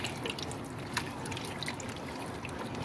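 Beef broth poured into a pot of vegetable beef soup, a steady liquid splash and trickle with faint drips, continuous and close, no talking.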